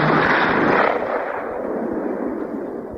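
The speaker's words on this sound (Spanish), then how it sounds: "sonaron 2 extraordinarios disparos que hicieron retumbar todo el palacio aquel" Two gunshots in a palace make a loud, booming blast that reverberates through the hall and fades slowly over a few seconds, with no voices.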